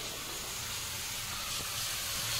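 Spice-washed water poured from a height into a hot pan of cauliflower gives a steady, loud hissing sizzle that runs unbroken from start to finish.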